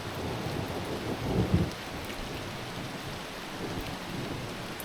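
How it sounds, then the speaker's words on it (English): Steady rain falls throughout while a low thunder rumble swells briefly near the start, then the downpour continues alone. "Hear the thunder?"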